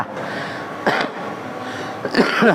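A man coughs twice, one short burst near the start and a harsher, rougher cough toward the end, close to the listener with quiet room noise between.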